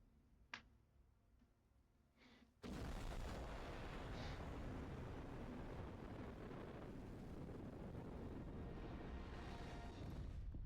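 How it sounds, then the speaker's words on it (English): A sudden loud, roaring rocket explosion in the video game Mars Horizon 2 bursts in after a few quiet seconds with faint ticks, then sustains as a dense, rumbling blast to the end. "Critical failure occurred, leading to the loss of our rocket and payload."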